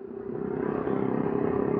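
An ordinary commuter motorcycle, not a sport bike, ridden at roughly 90 km/h, giving a steady engine drone with wind rush that swells slightly partway through and holds close and constant, with no one talking.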